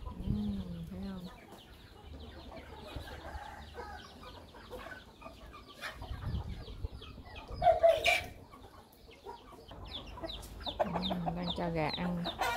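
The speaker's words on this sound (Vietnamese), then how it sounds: "Đang cho gà ăn." Backyard chickens clucking while being fed in a rainy, muddy garden in Di Linh, with a rooster among the flock; soft, scattered clucks sit under continuous ambient noise, with a louder burst midway.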